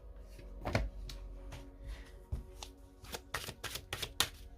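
Oracle cards being shuffled by hand for a reading, a run of crisp riffling and slapping bursts that thicken toward the end, close and fairly loud with no talk.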